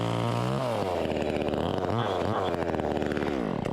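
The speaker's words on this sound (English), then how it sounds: "That's actually a very reliable chainsaw." A cheap Jiggly Dog battery chainsaw runs close by, its motor whining steadily and shifting pitch as the chain spins and bogs under load, then winding down at the end.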